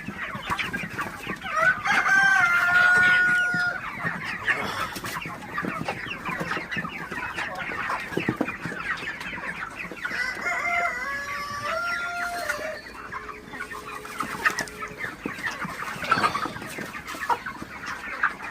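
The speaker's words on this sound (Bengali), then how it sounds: "চেষ্টা করবেন মুরগিগুলোকে বিক্রির আগ মুহূর্তে বেশি বেশি তাড়ানোর" Broiler chickens on a farm cluck and chatter continuously at close range, with occasional rooster-like crowing calls over a busy flock murmur. No one speaks.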